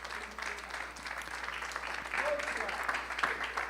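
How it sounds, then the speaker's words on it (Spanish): Church congregation at an afternoon Spanish-language worship service clapping together, a steady crowd applause that swells slightly midway, with a voice and background murmur underneath. "Dele una ofrenda de palmas al Señor."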